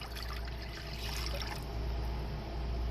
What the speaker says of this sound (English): add 1 3/4 cup of warm water to a mixing bowl